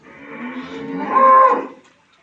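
A cow on a dairy farm lets out one loud, close moo that lasts under two seconds, rises in the middle and then fades, with no voices around it.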